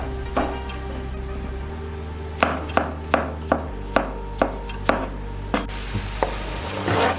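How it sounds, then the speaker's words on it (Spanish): A knife chops mushrooms on a cutting board for a stuffed baked aubergine dish with minced meat, about ten crisp, evenly spaced cuts sounding close over a steady low hum, with no talking. "Y por último cortamos los champiñones."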